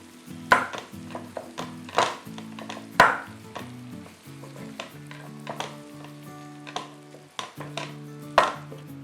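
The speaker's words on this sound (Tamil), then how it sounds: "இப்போது காலிஃப்ளவர் சேர்க்குறேன். நல்லா மிக்ஸ் பண்ணிக்கிறேன்." Cauliflower is stirred into masala in a pan: sharp, irregular spoon knocks and scrapes against the pan ring out over a low, steady sizzle.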